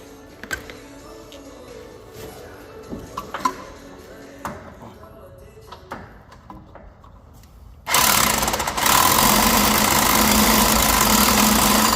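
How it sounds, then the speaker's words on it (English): An impact wrench works a stubborn bolt during rear suspension work on a 2005 fourth-generation Toyota 4Runner. Scattered metallic clanks come first, then a loud, continuous hammering burst that runs to the end. "now we can go back at it with the impact"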